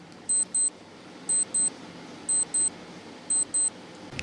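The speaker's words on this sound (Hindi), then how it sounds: "टाइमर आपके स्क्रीन पर है।" A quiz countdown timer sounds four quick double beeps, evenly spaced about a second apart, bright and clear above a low steady background hiss.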